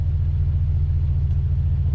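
Pontiac Grand Prix GXP engine idling steadily after an ignition coil replacement, a smooth, even low rumble with a regular pulsing beat, close and continuous with no misfire stumble.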